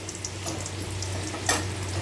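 Potatoes fry in oil with a faint, steady sizzle and crackle under a low background hum, with one brief louder spatter.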